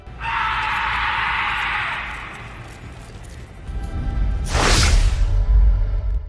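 A scream recorded in a cemetery late at night: a sustained shrill tone lasts about two seconds, then after a lull a sudden loud, harsh burst rises over a low rumbling background.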